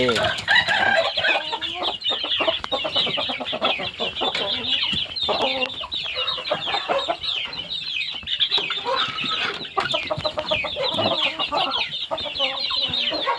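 A crowded coop of chickens clucks and squawks continuously, dense overlapping calls with an occasional rooster crow, close and busy throughout.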